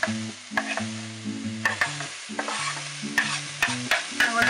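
Seitan is added to a pan of peppers and stirred, with clattering scrapes of a utensil against the pan over a soft sizzle and intermittent sharp knocks, while low musical tones play in the background.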